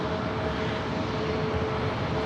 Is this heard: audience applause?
no